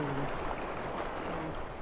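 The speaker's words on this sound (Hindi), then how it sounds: "यहाँ पर ऊपर 2 से 3 वाटरफॉल्स हैं जिनका पानी यहाँ तक आ रहा है" Mountain stream fed by waterfalls above a valley campsite, a loud, dense and continuous rush of flowing water, heard alone and close.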